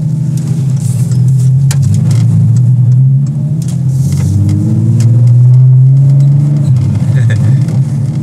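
VW T5 double-cab bus with a 700 hp R32 turbo engine and four-wheel drive accelerating, a loud close engine drone rising and falling in pitch as it revs through the gears, heard from inside the cabin.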